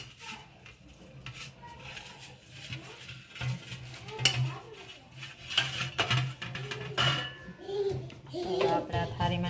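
Mandvi pak (peanut sweet) mixture scraped from a pan into an oiled plate, with scattered clinks and scrapes of a spoon against metal at close range amid someone talking, quiet, uneven.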